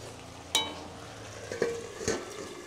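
A metal lid is set down on a pot of simmering fish roe curry, giving a sharp clink followed by two lighter clanks, all over a faint bubbling background.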